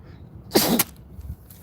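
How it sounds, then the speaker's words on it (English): A single sharp sneeze bursts out close by, a quick loud explosive puff, followed by faint breathing and rustling. "I got to sneeze."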